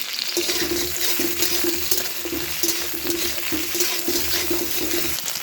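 Potatoes and cauliflower sizzle steadily in hot oil as ginger paste goes into the pan for an aloo phulkopir rosa curry, a continuous close frying hiss with soft stirring and no talk.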